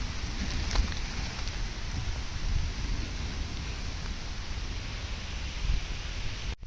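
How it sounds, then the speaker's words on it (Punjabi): Heavy rain pours steadily onto a farm field in Punjab, a dense, even hiss of large drops that carries on without a break for the whole stretch, with no voices over it. "ਲੋ ਭਾਈ ਮੀਂਹ ਨਹੀਂ ਹਟਿਆ"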